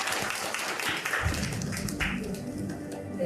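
Audience applause at the launch ceremony of a citizens' media watchdog mothers' group in Hanam, a continuous wash of many hands clapping that stays loud and even, with a low murmur beneath.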